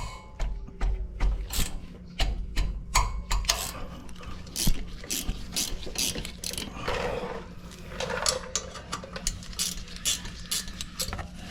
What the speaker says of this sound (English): I'm gonna get a ratchet right here. See if I can spin these out.